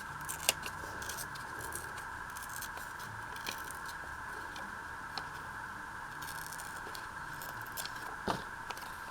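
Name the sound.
fussy cutting paper with scissors for crafting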